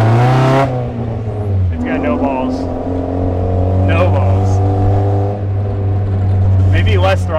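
A stock Mazda Miata engine running on denatured alcohol, idling roughly close by with uneven revs rising and falling, while people talk over it.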